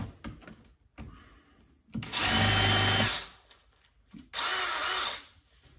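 A power drill whirs in two bursts of about a second each during joist repair in a 100-year-old Victorian house, with quieter handling and scraping noises between them.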